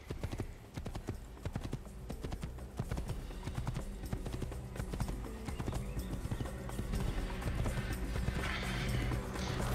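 Steady rhythmic hoofbeats of a galloping horse in Assassin's Creed, continuous and fairly loud over a busy background of music and game sounds, with a brief whinny.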